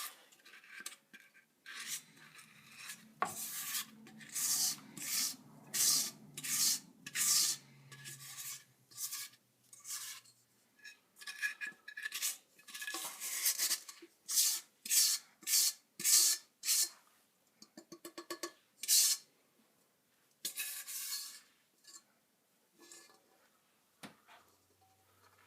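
Cake batter for a tres leches cake being mixed with an egg yolk mixture, a long run of rhythmic scraping and swishing strokes against a bowl, close and steady with brief gaps, no voices.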